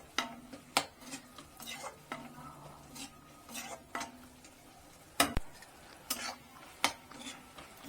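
A spoon clinks and scrapes against a pan as green prawn fry is stirred and mixed, giving irregular sharp taps and knocks over a faint sizzle, close and alone.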